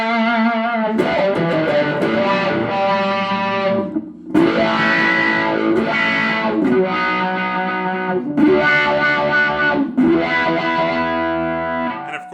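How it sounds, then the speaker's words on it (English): Electric guitar with gold foil single-coil pickups in an arched-top Strat-style body, run through a MODboard wah and played in sustained, loud, distorted phrases with a sweeping wah tone and no talking. "the cool thing that everybody wants to hear is wah wah"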